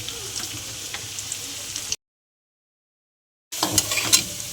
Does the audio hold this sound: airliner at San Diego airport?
no